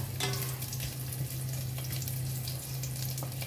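Ginger sautéing in a pan for a simple banana blossom dish gives a steady, close sizzle with a constant low hum and light scattered crackle, no voices.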